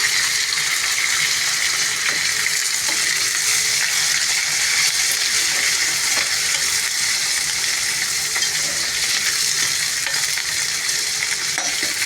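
Curry leaves and chana dal fry in hot oil for a tempering being made for raw mango rasam, producing a loud, close, continuous crackling sizzle with occasional stirring scrapes and no speech.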